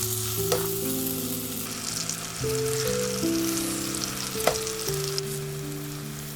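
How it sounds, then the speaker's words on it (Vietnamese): Bananas fry in a pan of butter and caramel, a constant close sizzle and bubbling with one or two brief clinks, under steady background music. "mình chiên chuối với hỗn hợp bơ, caramel khoảng 1 phút"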